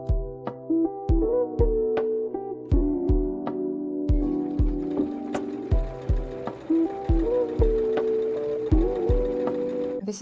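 A sewing machine stitching a seam on mesh and lace lingerie, running in short bursts with a rhythmic mechanical thump and whirring hum, close and fairly loud, with no talking.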